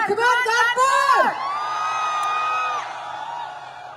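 Large crowd at an AWPL event in Kanpur whooping, cheering and shouting, loud rising yells that swell then hold as a sustained roar with a few long drawn-out voices.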